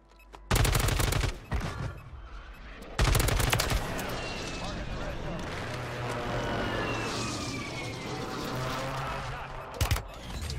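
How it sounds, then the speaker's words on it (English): Gunfire in Call of Duty: Warzone: loud bursts of automatic fire near the start, then a dense, sustained stretch of rapid shots with a steady mechanical hum beneath, ending with a couple of sharp close reports. "Why are you shooting me?"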